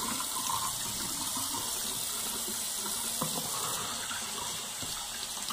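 Tap water runs steadily from a faucet into a sink while someone rinses a clay face mask off, a continuous close splashing hiss with small shifts from hands moving through the stream.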